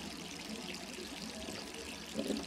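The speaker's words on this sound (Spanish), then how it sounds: "Está regándose la ducha" A shower runs in a bathroom in Resident Evil 3 Remake, a soft, even hiss of falling water that stays constant, with a small bump near the end.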